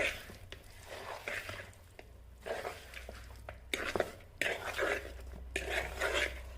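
Chicken being stirred and mixed by hand in a bowl or pan for fried chicken biryani, soft irregular scraping and clinking in short bursts, close and quiet, with a faint hum underneath.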